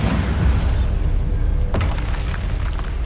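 A Bombarda blasting spell in the Hogwarts Legacy game goes off as a deep, loud boom with rumbling roar, followed by a sharp secondary crack and lingering debris rumble.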